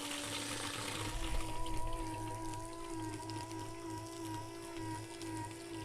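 A steady mechanical hum with gurgling, splashing water as a multi-use transfer pump draws water through a hose, continuous and moderately close.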